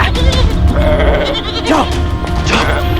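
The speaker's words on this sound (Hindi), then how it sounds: "जाओ बकरियों, उजाड़ दो बाजी का खेत।" A herd of goats bleats loudly nearby, several overlapping wavering cries against a busy outdoor background, with no talking.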